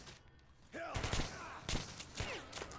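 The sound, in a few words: gunfire in the video game Metro Last Light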